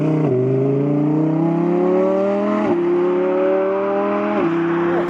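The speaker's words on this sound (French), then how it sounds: "Ce retour à l'échappement est dingue." A Lamborghini Huracan Tecnica engine drones loud and steady, its pitch climbing slowly, with brief shifts and exhaust crackle as the revs drop and pick up again.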